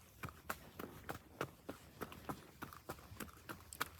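Hooves of loose horses, a buckskin among them, that have strayed from a nearby farm clip-clop in a steady quick rhythm at moderate distance, each strike sharp and distinct.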